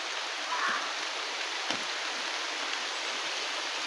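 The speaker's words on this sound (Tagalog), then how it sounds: "May ulan na mga tol." Steady rain falls outdoors as a constant soft hiss, even and unbroken, with a faint thump now and then and no voices.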